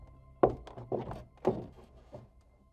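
Heavy thumps overhead from an attic, three or four dull knocks spaced about half a second apart, muffled and fairly close, with no talking.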